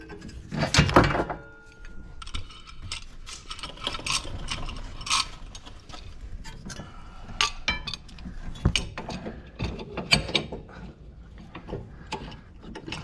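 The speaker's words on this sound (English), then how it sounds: "Clamp on here, just push the piston back in." Clamp pressing a car's brake caliper piston back in during a brake pad replacement, producing close metallic ratcheting and clinking mechanism sounds with occasional clanks, and almost no talk.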